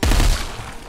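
Gunfire in the VR shooter Arizona Sunshine, a loud close burst of rapid shots crowding together in a single booming fusillade that quickly fades.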